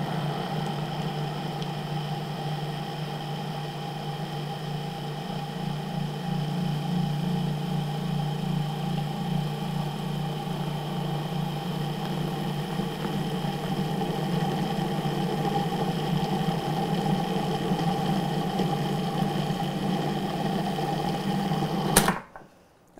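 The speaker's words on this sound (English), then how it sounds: "now I'm gonna run the motor" Food processor motor running steadily as it works butter and water into pie dough, a loud continuous buzzing whir that holds for about twenty seconds before cutting off abruptly.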